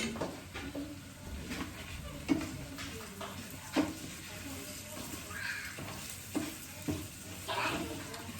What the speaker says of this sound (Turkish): Bunu da güzelce bir karıştırayım.